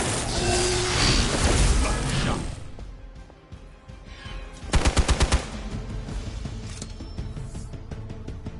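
A gunshot in Marvel Midnight Suns: a loud opening blast and crash, then a burst of rapid, evenly spaced mechanical shots ringing out clearly midway, trailed by lingering clanking game effects.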